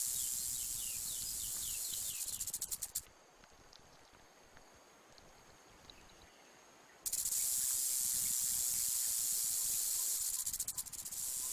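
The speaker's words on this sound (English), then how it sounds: "Rattlesnakes sound a more blatant alarm when people get too close." A rattlesnake shakes its tail rattle as a warning, a dense, continuous high-pitched buzzing hiss that cuts out abruptly for several seconds and then resumes just as loud, with no voices.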